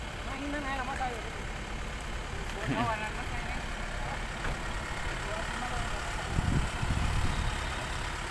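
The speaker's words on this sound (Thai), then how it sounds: "เห็นทนายต้อยขับ รถไถออกมานึกว่าจะไปไหน ที่ไหนได้มาดัน มาดันรถ" A farm tractor pushes a car stuck in a muddy dirt pit in rural Surin, Thailand. Its low, steady engine rumble carries throughout beneath people talking and calling out, with a heavier surge near the end.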